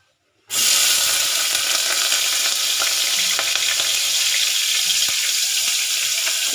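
Washed onions hit hot oil after a moment of silence and break into a loud, steady sizzle and crackle that holds evenly to the end.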